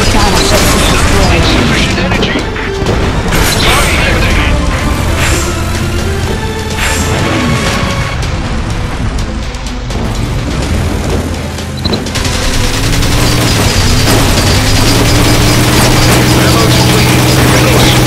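Battleships fire and explode in a base defense video game, a loud, dense barrage of booms, crackling volleys and mechanical clatter running throughout, with a low droning tone taking over near the end.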